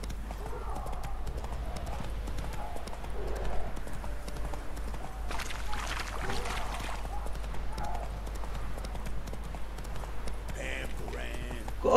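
Steady clip-clop of a horse's hooves trotting and galloping in The Witcher 3, a continuous rhythmic patter through the whole stretch under a spoken voice.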